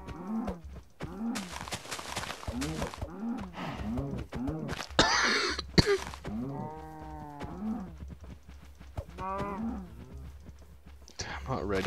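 Cattle in Minecraft moo repeatedly in a steady series of short, nasal, close-up calls, with a speaker talking intermittently among them.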